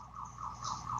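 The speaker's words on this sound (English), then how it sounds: "I don't know if you can hear these car alarms going off on the street outside." Car alarms going off on a city street outside, a faint wavering electronic whoop cycling steadily in the distance with no voices.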